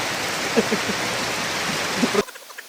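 Rain pours steadily during a hike on Mount Talang, a dense, loud hiss with a few louder drops, which cuts off abruptly near the end to leave only faint scattered taps.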